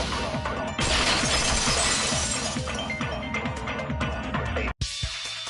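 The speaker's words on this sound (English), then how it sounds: "If it wasn't the window, then what broke to make that sound? A vase." Vase shattering in the Danganronpa 2: Goodbye Despair video game, a loud sustained crash of breaking glass and ceramic pieces with scattered clinks, cutting off abruptly near the end.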